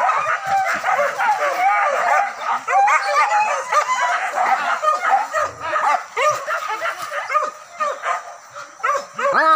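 Hunting dogs bark, yip and whimper continuously during a wild boar hunt, a dense close chorus of overlapping barks with faint voices underneath.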